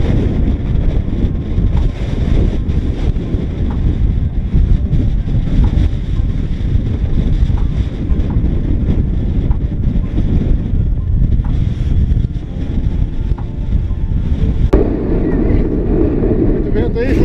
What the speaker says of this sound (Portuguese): Muito vento aí